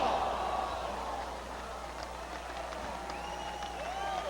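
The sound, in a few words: wrestling crowd in Melbourne applauding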